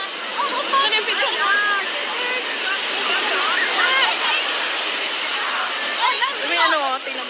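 Waves wash and splash continuously along a beach during a party, a steady rushing roar with people talking over it.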